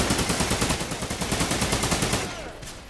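Rapid automatic gunfire in the video game Trepang2, a steady loud stream of shots for over two seconds before it cuts off and trails away.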